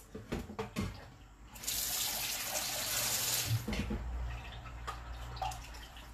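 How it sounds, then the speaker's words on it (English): Water pours steadily into a cooking pot of ofe oha at home, a continuous splashing rush after a few clinks and taps, then tapering into lighter trickles and small knocks. "I'm adding a little bit more water because my husband wants to finish this thing now"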